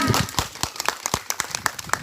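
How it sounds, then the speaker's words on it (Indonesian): An audience at a high school student council candidates' vision presentation claps for the first candidate, a short, uneven patter of distinct individual claps from a modest crowd, loosely spaced rather than a dense roar. "Ketua OSIS nomor urut 1, sekali lagi kita berikan tepuk tangan."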